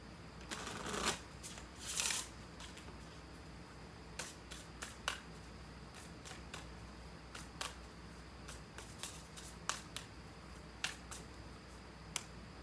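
Spellcasting Oracle cards being shuffled by hand, a couple of soft riffling bursts near the start followed by a steady series of crisp, quiet card snaps and flicks, close up and without talk.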